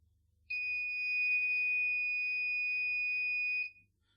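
A laser security alarm kit triggers, sounding a steady, piercing electronic tone continuously for about three seconds, then cutting off, with faint low hum underneath.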